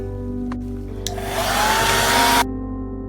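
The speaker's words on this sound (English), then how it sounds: "I'm going to use some alcohol in this applicator and the hair dryer and just kind of blow some of the ink around a little bit." A hair dryer blows alcohol ink across an art surface, a steady motor whine with a loud airflow rush that swells in the middle and then cuts off, close and alone after two faint clicks.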